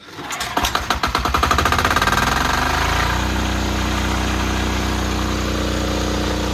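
A small engine with a freshly repaired starter cranks with rapid chugging pulses, catches, and settles into a steady, fairly quiet idle close by.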